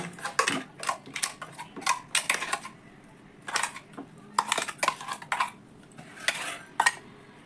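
Cooked leftover rice, ground into a paste, is scraped into a mixing bowl with a utensil, giving bursts of clinking and scraping against the bowl in quick irregular clusters, close and clear with no talking.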